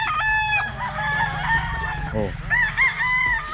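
Gamecocks on a large Bacolod fighting-cock farm crow close by, overlapping long calls with clucking hens underneath and a brief exclamation from a man.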